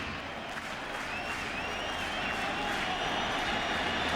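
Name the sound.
baseball stadium crowd applauding Paul O'Neill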